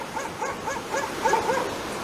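Several dogs bark and yip in quick repeated bursts at daybreak near an intersection, moderately distant and steady, with no voices over them.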